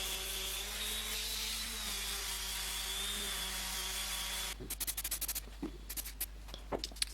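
Final sanding of a plywood cube box, a steady rubbing drone for several seconds before it stops, followed by scattered light knocks and clicks, close and fairly quiet.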